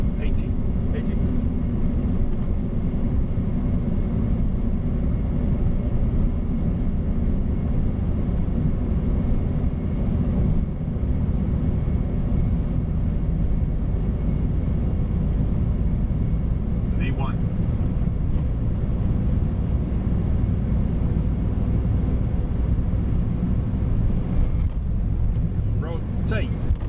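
Boeing 747-400 jet engines spooling to takeoff thrust, heard from inside the cockpit as a steady, loud broadband roar that holds throughout, with faint speech underneath.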